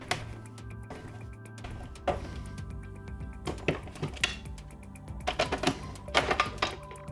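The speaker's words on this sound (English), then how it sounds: "we'll take these screws out here and see if we can get inside." Screws are being removed from the plastic casing of a Tomy Astro Shooter tabletop pinball toy, producing close, faint clicks, scrapes and small metallic ticks at an irregular pace, with no talking.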